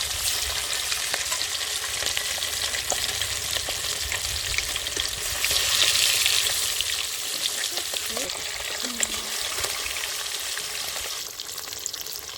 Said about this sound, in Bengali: এক এক করে মাছগুলো সব ভেজে নেব।